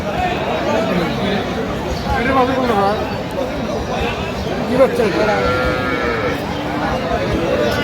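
Cattle mooing and calves, including Sahiwal calves, bleating amid a busy crowd, with people talking and bargaining throughout at the open-air Aftabganj cattle market in Dinajpur, Bangladesh.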